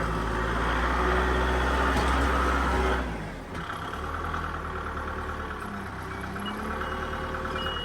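A tractor engine rumbles steadily while scooping a dirt pile on rural property, a loud low drone that dips briefly then settles into a continuous working hum, no voices.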